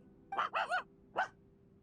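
A dog in Genshin Impact barks four short, high yips, three in quick succession and then one more after a brief pause, fairly close against a quiet background.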